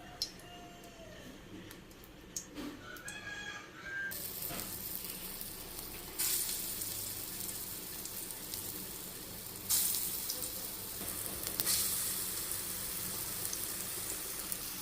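Hot oil sizzles steadily as dal balls shallow-fry in a little oil, a continuous crackling hiss with a few light clinks of utensils near the start.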